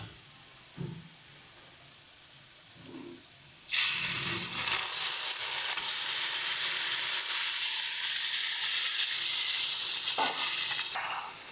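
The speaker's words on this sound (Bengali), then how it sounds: "এবার আমরা ম্যারিনেট করে রাখা মাটনটা এর মধ্যে দিয়ে দিচ্ছি" Marinated mutton dropped into a pan of golden-brown fried onions and spices bursts into loud, steady sizzling that runs to the end, after a few quiet taps and clinks beforehand.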